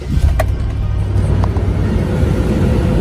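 A car engine, recently fitted with a cleaned new cold air intake, turns over and settles into a steady low rumble close by, continuous throughout with no talk, in a snowy driveway.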